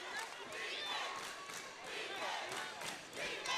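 Home crowd of Lakeview Centennial roaring at a varsity boys high school basketball game against Rowlett, a dense, steady wash of cheering and shouting voices that swells and dips throughout.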